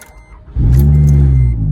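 A 2011-2016 Scion tC engine turns over after sitting about a month, a short crank that catches within half a second into a loud, steady idle rumble.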